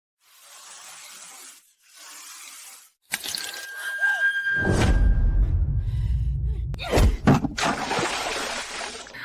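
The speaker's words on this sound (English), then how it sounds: "Where are you splashing that dirty water?" Dirty cleaning water splashes onto a floor in a burst, followed by dripping and sloshing, with scattered vocal sounds and gasps around it.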